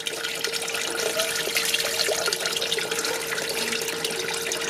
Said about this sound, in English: we're just going to add a little more water till it covers about 2-3 inches above the top.